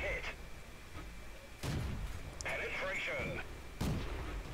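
Tank cannon shots from a Cruiser III in a video game, several booming blasts spread apart over steady engine rumble, with a mechanical reload whir between them.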